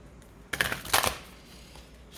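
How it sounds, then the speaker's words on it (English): A Yoga Path oracle card deck by Sahara Rose is shuffled by hand, giving two short, brisk riffling bursts close to the microphone in an otherwise quiet room. "this particular deck that I'm shuffling right now, the Yoga Path by Sahara Rose."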